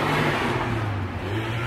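A car passing near a family camping van trip revs loudly with a rough, broad engine roar that fills the moment, with no talk.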